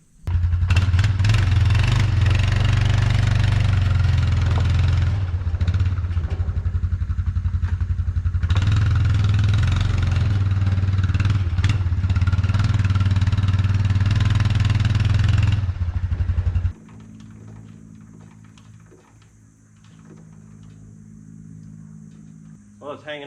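Vermeer woodchipper engine running loud and rough for about sixteen seconds with uneven revving, then cutting out to a faint low mechanical hum and quiet clatter.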